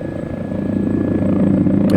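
A Mi-8 helicopter in a red, white and blue scheme flies a solo aerobatic display, its rotor thudding steadily and its turbine droning loud and close, growing a little stronger.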